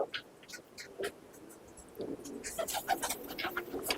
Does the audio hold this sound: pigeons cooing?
yes